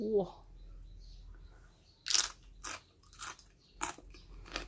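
Crunchy yardlong beans dipped in chili paste are bitten and chewed close by: one sharp crunching bite followed by several loud chewing crunches in an uneven rhythm, after a brief word at the start.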